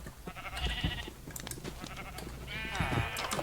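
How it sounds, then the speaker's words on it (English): Sheep bleating in the medieval farming game My Medieval Kingdom, two drawn-out wavering bleats, one early and one near the end, over dense clattering game ambience. "Here's all of the sheep. You got a rare sheep right there."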